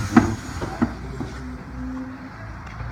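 A train rolls into a small village station on a steep downhill line, with faint rumbling and a couple of sharp metallic clicks early on, then a low steady hum as it eases in.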